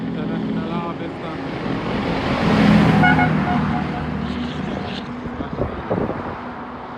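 An International Harvester 9900i truck drives past, its deep diesel drone swelling to a loud peak midway and then easing off, with a voice speaking over the engine noise.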